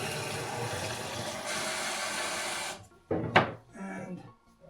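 Water pours steadily into a container for mixing film developer, a broad rushing flow that stops abruptly, followed by a couple of short hollow knocks and splashes from handling glassware.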